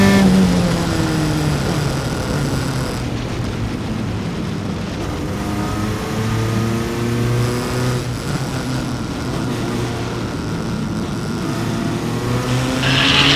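Open-wheel single-seater race cars in an SCCA race at Mid-Ohio, engines droning and shifting pitch continuously as several cars pass at once, loud and steady throughout.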